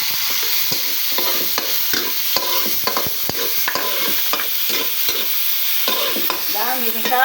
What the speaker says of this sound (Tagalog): Nakikita ko sa inyo ngayon ang paggisa.